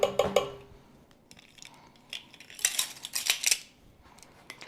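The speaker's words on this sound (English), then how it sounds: "I'm going to put 2 and 1/4 teaspoons of yeast into my mixture" A measuring spoon tips 2 1/4 teaspoons of yeast into a banana bread mixture in a bread machine, giving light metallic clinks and taps, a few soft scrapes near the start and a denser cluster of clicks toward the end, close and quiet.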